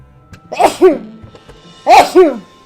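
Two sneezes in a row, close and fairly loud, each with a sharp intake and burst, about a second apart.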